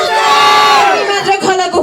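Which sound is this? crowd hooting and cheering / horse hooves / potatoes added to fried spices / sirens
crowd hooting and cheering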